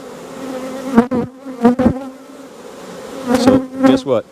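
Honey bees swarm around an open beehive, a steady droning buzz rising and falling in loud close passes as individual bees fly near, with no talking.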